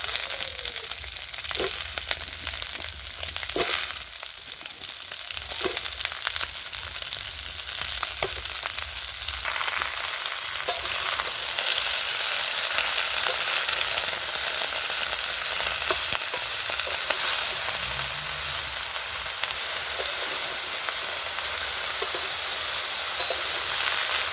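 Chopped cauliflower stalks and mixed vegetables sizzle in a pan with fried onion and prawns, a continuous bright crackle punctuated by scraping stirs and clacks, growing denser partway through, with no speech.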